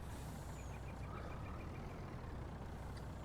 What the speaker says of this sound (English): I can back the truck and trailer right in there for now